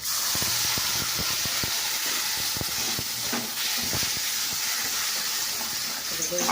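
Loud steady hiss and sizzle of water poured onto spice paste frying in a pan, continuous throughout with scattered clicks and pops and faint voice underneath.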